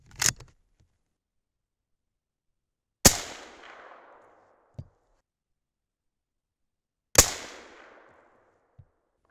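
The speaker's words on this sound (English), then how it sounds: "That shot did seem to have just the slightest little bit of hesitation." Three sharp, loud 6.5 Creedmoor rifle shots loaded with 44.7 grains of Hodgdon Superformance powder crack about three to four seconds apart, each trailing into a short rumbling echo and followed by a faint thump.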